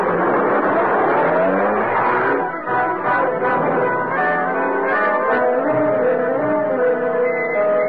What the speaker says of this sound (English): There's a car. Shevlin's car.